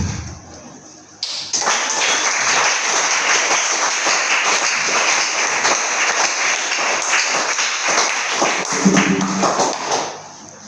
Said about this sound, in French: il faut applaudir pour lui dire merci.